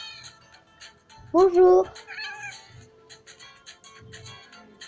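A cat meows twice in the Cats Simulator video game, a loud strained cry followed by a shorter higher mew, with someone talking over the ambient game background.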